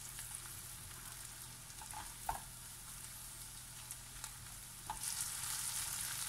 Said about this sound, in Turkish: Soğan ve sarımsağımı güzelce kavurduktan sonra şimdi içerisine bir tatlı kaşığı dolusu domates salçası ekliyorum ve onu da şöyle bir dakika kadar kavuracağım.